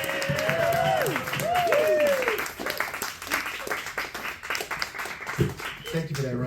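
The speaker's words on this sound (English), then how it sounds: "Start applauding now." An audience at a live show at a brewery claps steadily, with shrill whistles rising early and voices mixed into the crowd noise.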